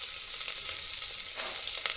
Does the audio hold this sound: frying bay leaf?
yes